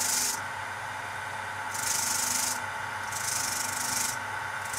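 A small bench machine with a wire wheel resurfaces the flat of a Benchmade Mini Griptilian knife, giving a steady motor whir with repeated bright scraping passes that swell and fade alone.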